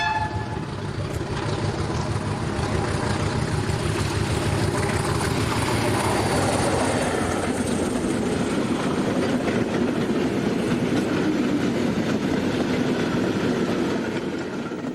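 Portuguese diesel locomotive 1807 hauls a salt train at Aguas de Moura, a loud, steady engine rumble with rolling wagons clattering past close by, the tone shifting as the train moves on.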